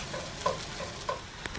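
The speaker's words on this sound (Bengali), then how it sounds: "চুলায় তেল দিয়ে ডিমগুলো ছেড়ে দেওয়া হচ্ছে।" Eggs frying in oil in a pan on a stove make a brief, steady sizzle with light scraping strokes of a utensil, close and alone.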